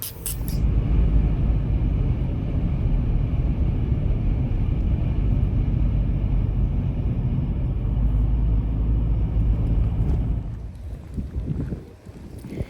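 Toyota Hilux fitted with a roof tent pulling away and driving, a loud steady engine and road roar with wind noise that fades near the end.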